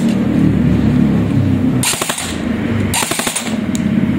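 A modified HK416 airsoft rifle fires two rapid full-auto bursts, each a fast clattering string of shots about a second long, loud and close, with a mechanical hum between them.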